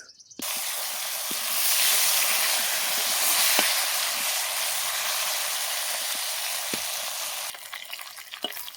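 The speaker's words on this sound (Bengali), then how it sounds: "মাছের তেলে আমি আলুটা ভেজে নেব।" Potatoes rubbed with salt and turmeric fry in oil left from frying fish, giving a loud, steady sizzle that starts abruptly, swells, then eases toward the end, with occasional small clinks and no voices.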